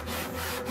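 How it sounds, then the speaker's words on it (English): Steady rasping of sandpaper worked back and forth over a hand-carved wooden sculpture credenza, continuous and close, with no talking. "sanding out some of this area here."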